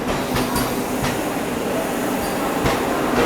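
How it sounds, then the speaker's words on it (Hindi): Indore–Nagpur Vande Bharat Express, a 16-coach orange rake, rolling into platform 3 at Itarsi Junction, a steady rumble of the approaching train with faint clicks and station ambience throughout. "अभी देखो प्लेटफॉर्म नंबर 3 पर ये आ रही है अपनी इंदौर नागपुर वंदे भारत एक्सप्रेस"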